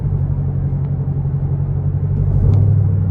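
A 2012 Chevrolet Camaro Convertible 2SS with a 6.2 V8 and aftermarket exhaust rumbles steadily while driving, a deep, close, throaty drone that swells slightly louder toward the end.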